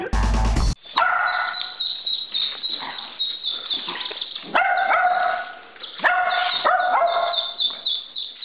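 A dog barks repeatedly near a duckling, in short bursts with pauses between them, loud and close, with high chirping mixed in.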